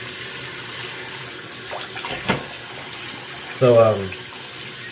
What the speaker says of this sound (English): I just probably gonna rinse off with lukewarm water.